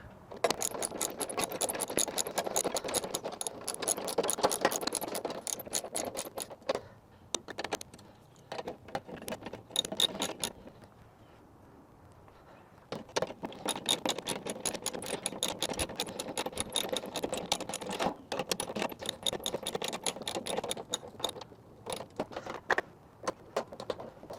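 Bolts being tightened on a 2003 Toro Personal Pace Model 20017 lawn mower, a rapid clicking ratchet in quick bursts with a short pause midway, close and fairly quiet with no voices.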